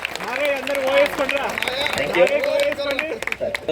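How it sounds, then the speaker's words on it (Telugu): Audience at a school alumni reunion clapping for army jawans being honored, applause rising under a prominent voice speaking over it. "ఒకసారి అందరూ ఈ ఆర్మీ జవాన్లకు క్లాప్స్ కొట్టండి"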